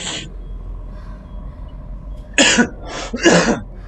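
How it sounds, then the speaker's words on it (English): Two or three harsh coughs burst out close by, one at the start and a quick cluster near the end, over a low background rumble. "whatever cough I have just won't go away"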